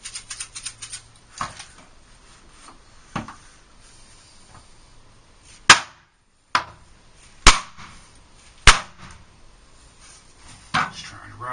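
Sharp, spaced hammer blows strike a toilet flange at floor level, about six distinct impacts at irregular intervals, with quieter scraping and handling noises in between.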